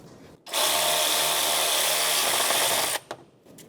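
Power tool snugging exhaust manifold bolts on a 1992-1996 Ford F-150, a single sharp whirring burst lasting about two and a half seconds, close and loud, ending in a quick clatter.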